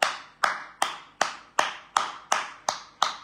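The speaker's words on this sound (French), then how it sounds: "Applaudissez, applaudissez" Rhythmic hand claps, about nine sharp evenly spaced slaps at a steady beat, close and clear with nothing else behind them, as a group applauds in turn for named people at a gathering of African comrades.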